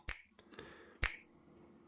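Two dry finger snaps from a Snap 1 percussion sample with its channel strip processing switched off, close and crisp, the first near the start and the second about a second later, each followed by a short fading tail.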